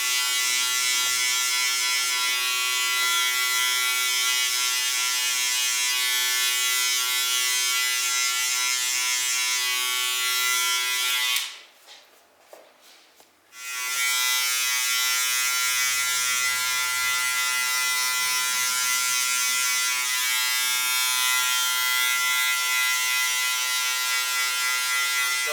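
Wahl Senior high-power electric hair clippers buzz steadily and loudly at close range through a skin fade haircut, with a brief cutoff midway before the motor resumes its constant hum.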